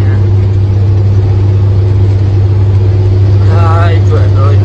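A car engine idles loud and close with a steady low drone, then revs up briefly toward the end, the rising pitch sweeping upward while someone talks over it.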